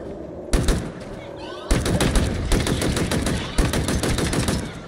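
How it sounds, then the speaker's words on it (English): Loud, close bursts of automatic gunfire in the shooter game Halo, several rapid rattling volleys separated by short pauses, with a voice talking between the shots. "I am trying to shoot this grunt where I think its head is at"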